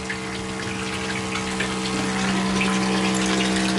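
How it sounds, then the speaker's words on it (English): A solar-powered irrigation pump runs continuously, drawing water from a barrel with a steady, fairly loud hum and watery gushing that holds an even level throughout. "So that's the pump running."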